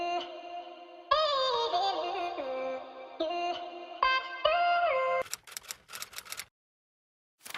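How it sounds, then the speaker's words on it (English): Processed vocal sample with EQ, delay, reverb and right-to-left panning, sung in sustained tonal phrases with echoing tails, then breaking into clipped stuttering bursts before falling silent. "And with all effects the vocal sounds like this."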